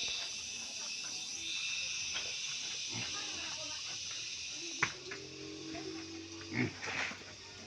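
Pigs in their pen on a farm grunt and snort faintly under steady insect-like hiss, and a few louder snuffles come near the end.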